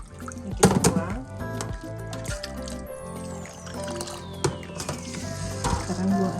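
Water poured off soaked soybeans while making tempeh, a wet splashing and gurgling pour with squishy, dripping bursts, close and fairly loud, with a voice briefly in the background.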